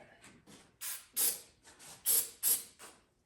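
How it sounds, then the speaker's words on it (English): An aerosol spray gives about seven short, close hissing bursts in an uneven rhythm, some louder than others, with no talking. "give that a spray somewhere there over there,"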